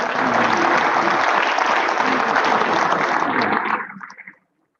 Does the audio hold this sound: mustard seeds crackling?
no